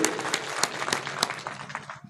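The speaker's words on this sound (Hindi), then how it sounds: "एक बार जोरदार ताली बजाएं आज के उनके इस संबोधन के लिए" Audience applause after a political speech, a short burst of scattered, fairly close hand claps with distinct individual claps that thin out toward the end.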